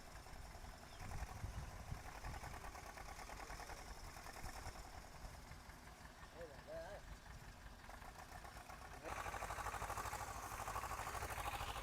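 Tractor pulling a cultivator while sowing seed in a farm field, a steady low engine drone and rattle heard from nearby, growing louder and brighter near the end.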